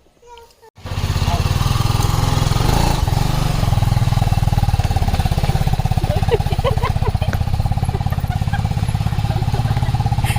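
A motorcycle carrying a family on a ride, its engine droning steadily and fairly loud from about the first second onward, with a constant low rumble under faint background sounds.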